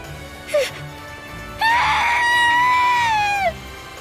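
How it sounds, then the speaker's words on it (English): A woman's piercing scream from the visual novel Umineko no Naku Koro ni: a short shrill cry, then after a pause a long, loud, sustained wail that rises and trails off. "let out a piercing scream"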